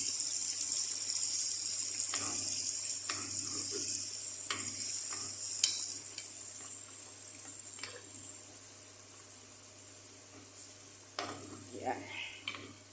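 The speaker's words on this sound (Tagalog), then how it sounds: "lagyan na natin siya ng hot water. Covered natin ng hot water para po maluto ng maayos" Hot water poured over food in a cooking dish, a steady watery rush with sizzling, clinking and stirring sounds, loudest early and tapering off toward the end.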